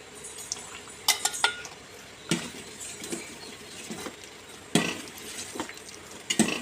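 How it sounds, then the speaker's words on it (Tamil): Spoon scrapes and soft thick bubbling as jaggery syrup is added and stirred into cooking rice flour in a pot, with intermittent sharp clinks of utensil on metal, close and fairly quiet. "இந்த ஸ்டேஜில் நம்ம வெள்ளைப்பாக ஆட் பண்ணிக்கணும்"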